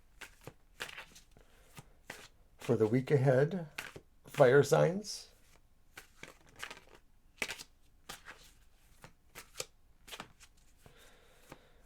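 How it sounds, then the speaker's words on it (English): Tarot cards are shuffled in short, soft bursts of riffling and tapping between stretches of a person talking quietly nearby. "So now we're going to go ahead and shuffle the cards for your reading."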